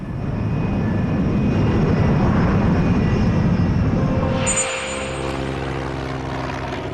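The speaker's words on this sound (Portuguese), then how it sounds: "O capitão Antônio Valdez From é o copiloto do avião que se aproxima da cidade." An airplane approaching a city near Los Angeles gives a loud, steady engine roar, which then thins into a lower hum with a clear tonal whine.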